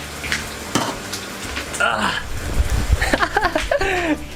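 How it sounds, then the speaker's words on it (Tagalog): Garlic frying in a pan for a quick sauté of spring beans with sardines, cooked in a speed challenge: a steady, close sizzle with occasional stirring, while voices talk over it. "Masusunog na yung mga bawang."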